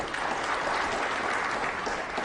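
Snooker audience applauding at the 2006 Grand Prix final, an even, continuous wash of clapping from the crowd, moderately distant and steady with no speech over it.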